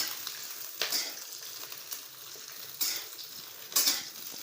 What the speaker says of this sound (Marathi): मिरच्या तळताना ना तेलाचा टिपका त्यातलं बी डोळ्यात जाते